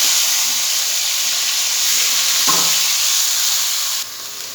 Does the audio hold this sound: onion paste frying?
yes